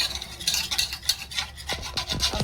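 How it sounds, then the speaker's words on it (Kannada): A wet, rasping rub of hands mixing chicken kebab marinade, close and steady with quick repeated strokes and no talking. "ಮಿಕ್ಸಿಂಗ್ ಹೊಡಿತಾ ಇದ್ದೀನಿ ಮಾಡೋದ್ರಲ್ಲಿ."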